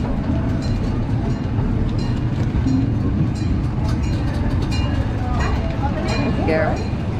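Small amusement ride train on a boardwalk runs with a constant low rumble and rattle while people chat nearby, with faint squeaky tones near the end.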